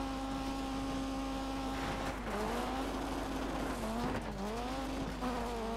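Rally car spinning out on a stage in Colin McRae Dirt 2, a steady engine drone rising into sweeping revs and a long tyre squeal, loud and alone without talk.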